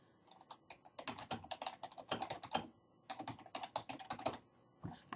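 Rapid, uneven clicking of computer keyboard keys being typed while entering a vendor name in accounting software, close and clear, in quick bursts with short pauses and no voices.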